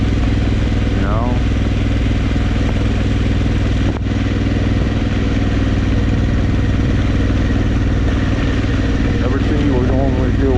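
An adventure motorcycle ridden off-road at Holey Land, with the rider standing on the pegs while shifting and braking. Its engine drones loud and close the whole time, and the revs rise and fall.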